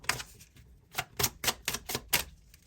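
Tarot cards laid down one after another, a series of about eight sharp, close slapping taps in an irregular rhythm, fairly quiet, with no talk.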